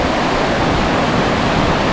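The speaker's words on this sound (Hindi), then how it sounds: "पानी की स्पीड देखें कितनी तेज़ है यहाँ से" A fast-flowing mountain river in a high valley of Gilgit-Baltistan rushes in a loud, dense, unbroken roar of churning water, close by and steady throughout, with no talk.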